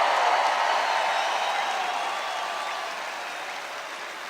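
A large crowd at a political campaign rally in Grand Rapids, Michigan cheers and applauds in a broad, sustained wash of clapping that slowly fades over a few seconds.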